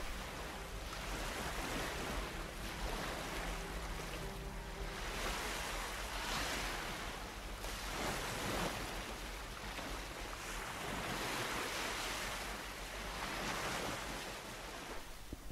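Waves washing onto the beach at the Geraldton foreshore, a constant rushing surf with wind noise buffeting the microphone, steady and fairly loud with no voices.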